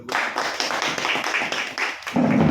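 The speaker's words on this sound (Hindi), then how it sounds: "इस बार ताली बनती है इसके लिए।" An audience at a business presentation claps, a dense burst of many hands lasting about two seconds, with a voice cutting in at the end.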